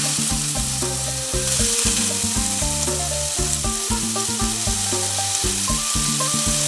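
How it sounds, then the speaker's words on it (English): Khmer-style lemongrass beef skewers sizzle loudly on an indoor grill, a continuous close crackle and hiss with no talking over it. "This is my indoor grill, but that sizzle. I love that noise."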